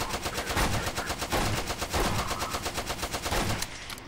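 Rapid automatic gunfire from a weapon in Garry's Mod rattles in fast, evenly spaced bursts, loud and close, almost a whole magazine dumped at the target with brief pauses between strings.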